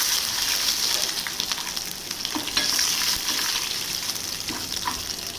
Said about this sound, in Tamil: அதையும் இதோட சேர்த்து எண்ணெயிலே வதக்கி விட்டுறலாம்